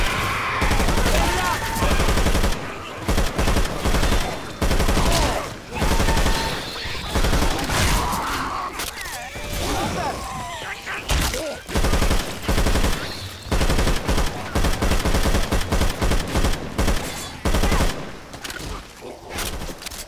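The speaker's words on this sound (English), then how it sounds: "Shoot that zombie in the back!" Gunfire in the zombie shooter Left 4 Dead 2, loud sustained bursts of automatic fire in rapid volleys with brief pauses, occasional voices mixed in.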